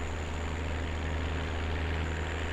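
Tractor engine in the farming game Landwirtschafts-Simulator 17, a steady low diesel rumble idling and pulling away, continuous and moderately loud with no speech.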